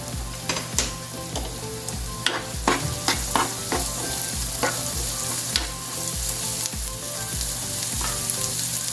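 Chopped onion frying in a pan, a continuous close sizzle with frequent scraping and clinking stirs throughout, no one speaking.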